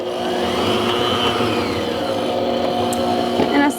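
An electric mixer whirs steadily while mixing blueberry bundt cake batter, its motor giving a close, continuous hum with a brief shift in pitch near the end.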